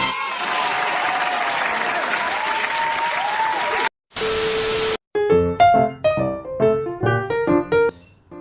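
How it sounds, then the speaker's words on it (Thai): A crowd applauds steadily for a game-of-the-year style award in a tank game discussion, filling the first four seconds with loud, continuous clapping. A short burst of static-like noise follows, then a run of plucked, tonal music notes. "ผมปรบมือ"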